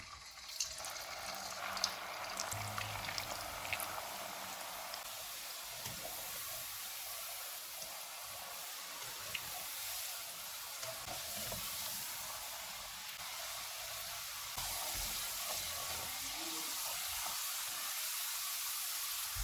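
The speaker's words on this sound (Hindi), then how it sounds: "अब हम इनको फ्राई कर लेते हैं।" Potato chips frying in hot oil on a low-to-medium flame, a steady, continuous hiss and sizzle that holds evenly throughout and gets slightly louder toward the end, with no talking.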